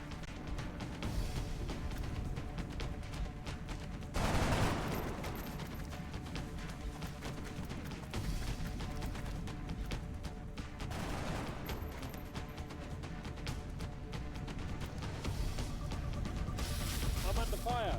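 Gunfire in the Long War video game: several loud, crashing bursts of fire break over a steady game background, with voices talking throughout.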